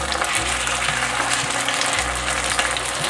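Steamed vegetarian pork chops frying in a flat pan with a little oil, a steady loud sizzle and crackle running continuously without pause.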